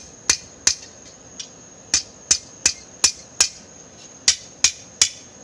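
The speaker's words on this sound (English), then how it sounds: "I'm just using a ball peen hammer for this guy" A ball peen hammer strikes hot forged steel in a backyard forge, about a dozen sharp ringing metallic blows at an irregular working pace, each with a brief bright ring, close and loud with no talk.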